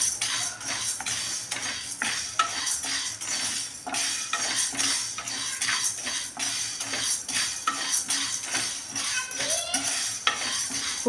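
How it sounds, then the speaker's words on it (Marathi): Dry sago pearls being roasted in a pan while a spatula stirs them, giving a steady rattling, scraping texture with frequent light clinks of the utensil against the pan, close and continuous with no talking. "आपल्याला शब्दाना असा चांगला भाजायचा आहे"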